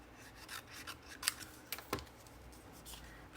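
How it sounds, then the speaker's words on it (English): Scissors slicing through a piece of paper cardstock in half, a quiet sequence of short crisp snips and rubbing blade sounds, close and faint in a still room. "take your scissors and just cut this one in half"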